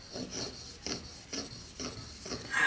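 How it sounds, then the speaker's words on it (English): Shear blades are sharpened on a 1000 grit stone with rhythmic rasping strokes, about six close, quiet passes in under three seconds. "I think I'm just going to keep it on the 1000 grit, because that'll give it a little bit more toothiness."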